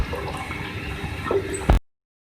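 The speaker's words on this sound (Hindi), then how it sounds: "2 गिलास इसके अंदर हम ऐड कर रहे हैं पानी।" Water from two glasses poured into a cooking pot of beef and potato curry, a short trickling splash lasting under two seconds and ending with a brief louder slosh.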